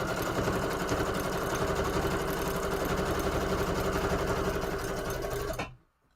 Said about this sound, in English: I'm gonna keep the line close to that zigzag stitch, and I'm just gonna do a number 1 stitch